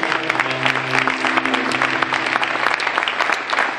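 An audience at an awards evening gives steady applause for prize winners. The dense clapping is loud and continuous, and a faint tone sits under it at the start.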